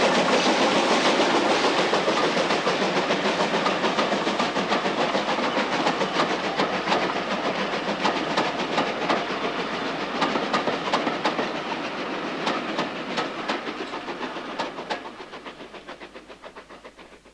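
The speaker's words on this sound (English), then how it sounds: "The last through train of the day climbing to Lerdig Bank." A steam-hauled evening mail train on the Cambrian line labours up Lerdig Bank, with steady rail clatter and rhythmic exhaust beats, loud and continuous before fading slightly at the end.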